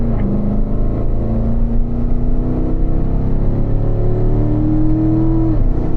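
A race car engine drones loud and close as it accelerates out of turn 7 under a squeezed throttle, its pitch climbing steadily before a sharp drop near the end.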